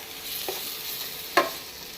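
Two medium chopped tomatoes fry in a pan with a low, steady sizzle, and two brief utensil clinks, the second louder, sound over it.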